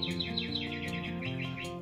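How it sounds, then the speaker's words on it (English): A bird clock sounds its hourly chime as a recorded bird song, a steady run of bright, rapid chirps and tweets, loud and close, with no talking over it. "I have a bird clock, but now you guys know it's 4 o'clock."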